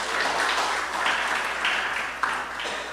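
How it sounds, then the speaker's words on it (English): Audience applause for Jillian John at a Star Campaign political rally in Trinidad, a steady wash of clapping from a crowd that holds at an even level for several seconds, with no speech over it. "Give her a round of applause."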